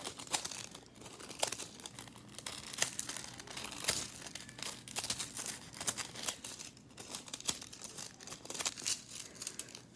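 Foil crinkles and rustles close up as it is pushed down and pulled off a nail-art stamp coated with sticky white polish, a steady busy crackling with small sharp crunches throughout.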